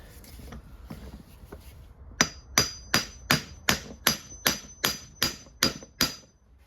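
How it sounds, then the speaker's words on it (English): Hammer blows strike a driveline part on a Porsche Cayenne / Volkswagen Touareg to center it, about nine sharp, evenly spaced metallic whacks ringing close up after a few softer taps. "I'll just give it a couple of good whacks just to center it"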